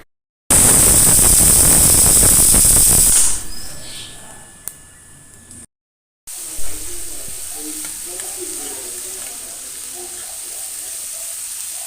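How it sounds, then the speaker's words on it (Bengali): Cabbage frying with chilli powder, a loud close hiss of sizzling oil for the first few seconds that drops away, followed after a short gap by quieter background kitchen noise with faint clinks. "এখানে বাঁধাকপি একটুখানি লঙ্কার গুঁড়ো দিয়ে ভাজছি"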